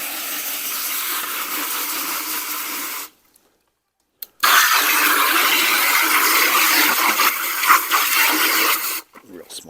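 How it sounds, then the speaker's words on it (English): Water gushing into a small Home Depot bucket to rinse it, a loud, close splashing rush that stops briefly, then resumes with sloshing before cutting off. "Let me rinse it."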